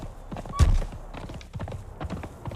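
Horse hooves thudding in a Conan video game as a mounted rider charges into enemies, a heavy impact thump near the start followed by softer scattered hoof clops and bumps.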